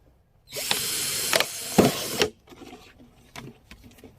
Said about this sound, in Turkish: Şimdi üstten ikinci boğumdan bir delik deliyoruz.